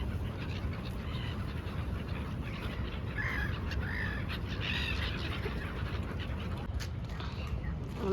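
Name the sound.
birds at the Tapi river, Surat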